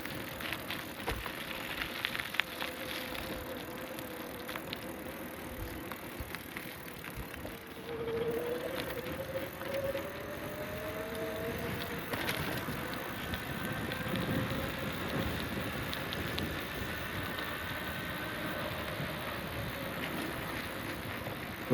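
An e-bike cruising on pedal assist level 3 on a chilly day in Illinois: a steady rolling whir of tires and a faint motor tone with passing wind noise, fairly constant and unbroken, occasional light rattles.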